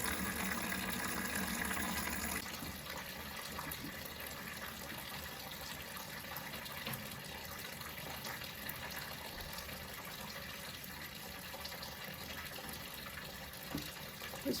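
Faint, continuous rush of water draining from a flooded attic air conditioner, steady throughout after a slightly louder opening stretch, heard alone with no talking.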